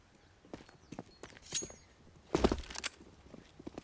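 Footsteps on the Inferno map in Counter-Strike: GO, a series of quick irregular thuds near and far, with a louder cluster of steps midway and faint background game noise.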